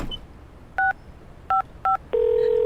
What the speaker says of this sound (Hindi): उसने सबसे पहले मुझे कॉल किया